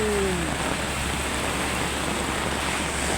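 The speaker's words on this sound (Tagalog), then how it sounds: "Sobrang lakas ng ulan." Heavy rain pours down steadily at an outdoor fabricating area, a dense continuous hiss with a low rumbling bed underneath and no talk.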